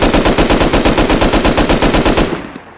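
An LR-300 rifle fires on full auto in Rust, a single loud, close burst of about two dozen evenly spaced rapid shots that then tails off into echo, with no talking.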